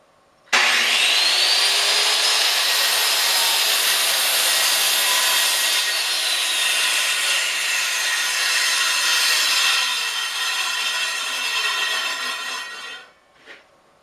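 A Kreg Accu-Cut XL track saw cuts through a wood panel with no dust collection, giving one long, loud, continuous whine and rasp that begins abruptly, holds for about twelve seconds and then spins down.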